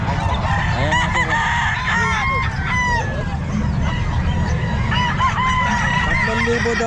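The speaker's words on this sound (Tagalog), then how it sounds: "Manok ni boss Totoy Bibo" Several chickens cluck and a rooster crows repeatedly, close and loud, over constant low background rumble, at a pet market in Calumpit.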